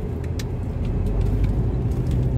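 A car cruises along the highway, its interior filled with a loud, constant low road rumble and engine drone, with a few faint clicks over the top.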